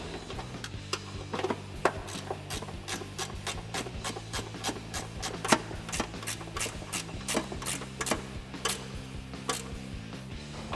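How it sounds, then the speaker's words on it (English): Ratchet wrench with a 13 mm socket tightening an exhaust bracket bolt on a 2005-2009 Mustang GT: an even series of sharp ratchet clicks, close and moderately quiet, with no speech. "and we'll take my 13 millimeter wrench."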